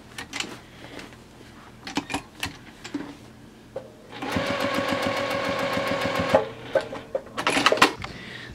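A sewing machine stitches binding onto a quilt in short rattling bursts, then runs one steadier stretch of rapid stitching before a few more quick bursts, close and clear.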